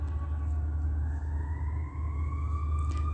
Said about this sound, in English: Sirens starting and stopping,